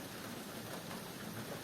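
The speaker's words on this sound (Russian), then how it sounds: "Дождик поливает, солнышка нету." Steady rain pours outside a balcony with potted plants on a cool June day, a soft continuous hiss close by with no voices.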